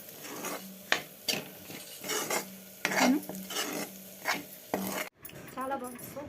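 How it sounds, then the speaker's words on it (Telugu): Chicken being mixed with salt and spices, heard as repeated metal scraping and clinking strokes against a vessel at an uneven rhythm, close and moderately loud, with a brief gap near the end and no speech. "మీకు రుచికి తగ్గట్టు సాల్ట్ వేసుకొని దగ్గరికి కలపండి"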